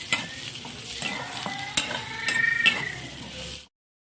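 Goat intestines (chusta) frying in a pan with steady sizzling and repeated stirring scrapes, close and fairly loud for about three and a half seconds before cutting off to silence.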